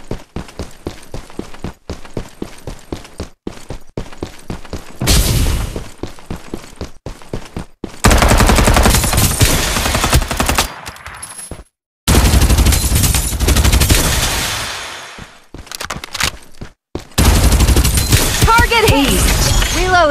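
Loud, dense gunfire from the battle-royale shooter Farlight 84, with rapid single shots at first and then sustained bursts and blasts, broken by short pauses and mixed with game effects and occasional speech.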